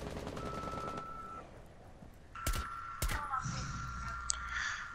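Gunfire in Rainbow Six Siege comes as sharp game shots, a couple of loud cracks near the middle, with a rapid burst earlier and a talking player over a background hum.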